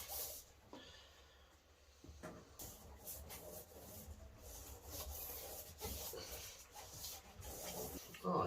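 Washing-up liquid rubbed onto a Honda CRF250 Rally rear motorcycle tyre during a tyre change in a shed, giving close, continuous rasping and scrubbing friction with intermittent scuffs and handling knocks.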